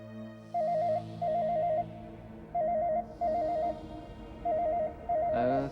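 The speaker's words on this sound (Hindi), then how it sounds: "किसका फोन आ गया अब?" A telephone rings in repeated warbling trills, several short bursts separated by pauses, steady and moderately loud with no talking.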